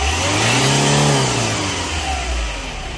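Ford Figo diesel engine revved once in a rising then falling swell, a loud, close, low mechanical drone that fades back toward idle, no talking.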